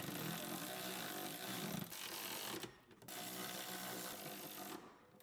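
Power tool tightening bolts on a driveshaft carrier of an S197 Ford Mustang, a close buzzing whir running in two long bursts with a short pause between, fading quietly at the end.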